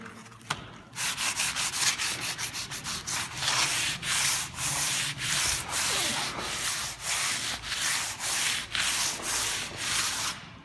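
Hand sanding of primer on a Suzuki Carry body panel with sandpaper: steady, rhythmic back-and-forth scraping strokes, close and fairly loud, continuing without pause and with no talk.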